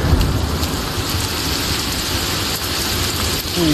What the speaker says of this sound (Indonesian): aduh hujan lagi